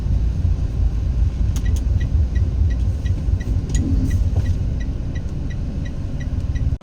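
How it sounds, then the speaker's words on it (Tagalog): Road traffic near City Hall, a steady loud rumble of passing engines and tyres filling the scene, with faint repeated beeps over the low roar and no talk. "Ka traffic ang City Hall."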